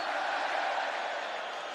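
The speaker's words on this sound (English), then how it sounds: "And there's a good performance by the crowd as well, as you can imagine." Football crowd singing in a packed stadium at a Barcelona vs Madrid Clásico, a broad, steady roar of many voices heard at a distance, sustained without break.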